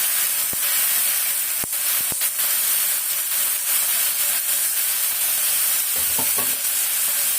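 Tamarind frying in a pan for mint chutney gives a steady, bright sizzle and hiss throughout, with a few sharp clicks and scraping stirs near the end.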